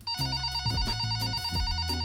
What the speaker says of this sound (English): Until the phone rang.